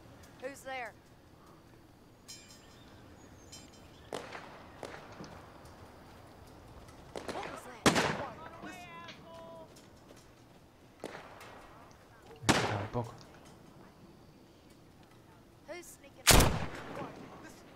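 A few sharp, loud gunshots from The Walking Dead: Saints & Sinners VR, spaced seconds apart among footsteps and quieter game sounds, with someone talking between them.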